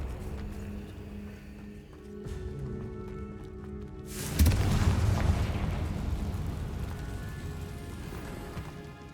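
A Confringo fire spell blasts in Hogwarts Legacy, a sudden loud burst that rolls into a long, rumbling roar of debris, following a quieter stretch of faint ambience.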